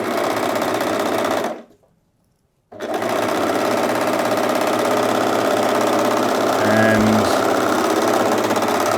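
An overlocker stitches a seam on stretchy knit fabric, its loud rapid mechanical whirr running steadily, cutting out for about a second, then resuming close up with a single word spoken briefly.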